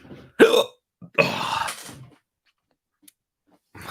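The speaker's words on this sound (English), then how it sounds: "These hiccups are ridiculous." A person hiccups: two short, sharp vocal bursts close to the mic, separated by quiet, followed by near silence.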